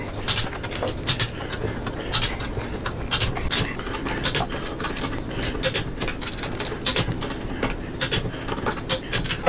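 A torque wrench tightens the pinch bolts on a Dirtyworks front air ride suspension, giving rapid, close ratcheting clicks in quick repeated bursts over a steady mechanical background.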